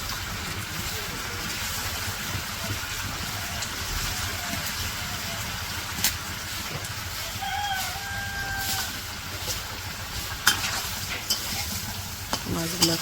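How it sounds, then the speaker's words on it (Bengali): Hilsa fish fried and stirred in a spiced pan in a village-style kitchen, giving a steady sizzle with occasional scrapes from the stirring and a rooster crowing faintly in the background. "মাছগুলো একটু কষে নিব।"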